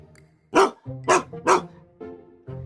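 A cartoon dog barks three times in a quick, loud run, each bark sharp and clear, with fainter tonal cartoon sounds before and after.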